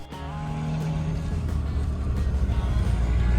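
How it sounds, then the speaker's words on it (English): A car drives through a small town, its engine and road noise a steady low rumble from inside the cabin, close and continuous, with no talking. "Now we're driving through Caddo."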